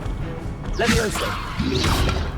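In Hogwarts Legacy a Levioso levitation spell is cast, two swishing magical whooshes with bright shimmering tails about a second apart, close and fairly loud over a low ambient bed.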